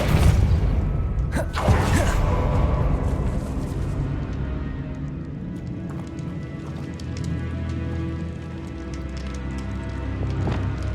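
A Depulso force spell cast in Hogwarts Legacy, a loud whooshing burst with sharp impact cracks early on, then a rumbling echo that settles into steady ambient game noise.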